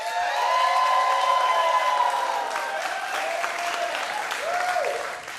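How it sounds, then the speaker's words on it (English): A studio audience applauds a guest host on a football talk show, a loud, sustained burst of clapping with some cheering mixed in that tapers off at the end. "It's good to hear some claps"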